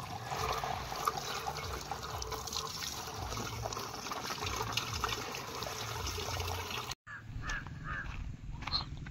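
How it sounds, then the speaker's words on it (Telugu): Drinking water trickles from a source in a forest along the Srisailam pilgrimage walk, a continuous soft splashing flow with crows cawing nearby, briefly interrupted by a short cut before the trickle resumes. "ఇదిగోండి ఇక్కడ వాటర్ మంచినీళ్ళే కదా"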